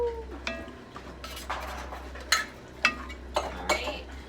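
Diced tomatoes from a can tumble into a pot of chili and get stirred, with scraping spoon strokes and several sharp clinks against the pot, moderately close over a low steady background hum.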